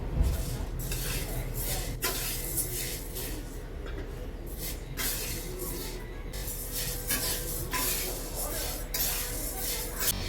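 Roasted sorghum is scooped and scraped out of a pan, with repeated metallic scrapes and clinks of a utensil against the cookware over a steady background hiss.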